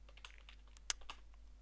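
Light, quick keystrokes tapping on a computer keyboard, close and soft over a steady low hum, with one sharper clack near the middle.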